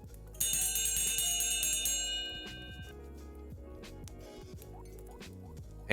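A bell rings once loudly near the start and its bright metallic tone rings out and fades over a couple of seconds, during a casual livestream chat, with low background noise and a soft voice underneath.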